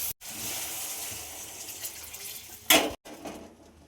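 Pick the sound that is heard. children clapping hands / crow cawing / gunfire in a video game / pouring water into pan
pouring water into pan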